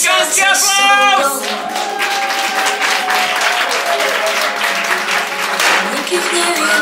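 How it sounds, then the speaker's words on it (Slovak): Applause at a first-dance celebration held at a salaš, with steady clapping from a crowd under cheering voices and talk, all fairly loud and sustained throughout. "Poprosím vás, velikánsky aplauz!"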